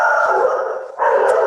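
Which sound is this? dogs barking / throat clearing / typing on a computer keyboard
dogs barking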